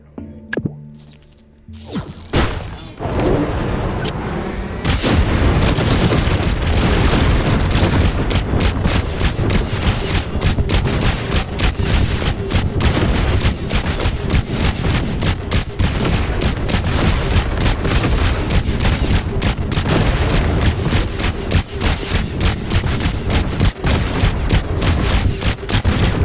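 Missiles fire and blow up in the vehicle-building game Trailmakers, a loud sustained barrage of booms and crackling blasts that starts after a brief lead-in and keeps going nearly unbroken.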